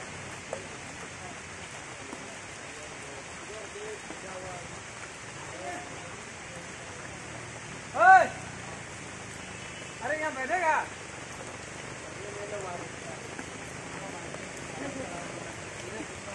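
Steady rain patters down during a hill climb to Dalma, a constant hiss throughout, broken by a couple of brief voices partway through.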